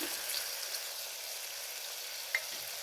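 Ground paste of onion, ginger, garlic and green chili sautéing in a pan for rajma biryani, a steady soft sizzle throughout with one brief clink near the end.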